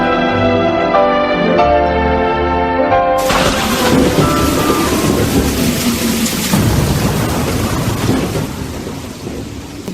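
Heavy rain pours loudly and steadily with rumbling thunder throughout, and a music score fades out early on.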